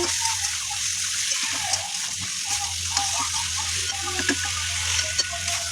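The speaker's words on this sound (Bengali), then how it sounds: "এখন এটাকে ভালো মতো নাড়তে হবে" Chicken with turmeric, salt, cumin and garlic sizzles in a pan while being stirred, giving a constant frying hiss with soft scrapes and small clacks scattered through it, close up.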